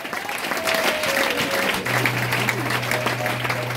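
Congregation at an Easter church service breaking into sustained applause and cheering, a dense steady wash of clapping from a large crowd with a few voices and a held tone underneath.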